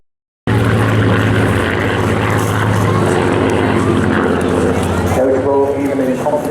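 A Spitfire in a D-Day 80th formation display at Eastbourne Airshow 2024 gives a steady, loud propeller-engine drone that starts abruptly and holds throughout, with a faint voice mixed in near the end.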